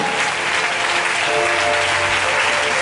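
A church congregation applauds loudly and steadily in acclamation of the Lord, a dense, close burst of clapping with no break.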